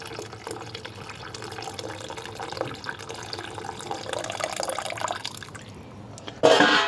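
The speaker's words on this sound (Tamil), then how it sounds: "புளி தண்ணி ஊற்ற போகிறோம். ஊற்றிட்டுருக்கோம்." Tamarind water poured into a pot of anchovy fish curry (nethili meen kulambu), a quiet steady trickle and splash for several seconds, ending with a louder burst of liquid.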